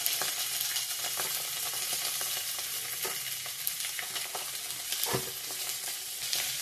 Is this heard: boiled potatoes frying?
yes